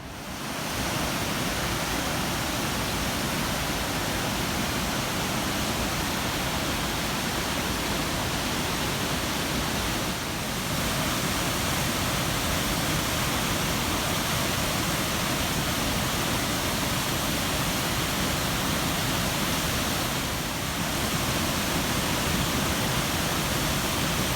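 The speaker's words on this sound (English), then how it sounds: "So these are the official Ohiopyle Falls." Ohiopyle Falls, a wide waterfall spanning the Youghiogheny River in Pennsylvania, roars as a steady, loud, broadband rush of water that continues unbroken for the whole stretch, with no voices.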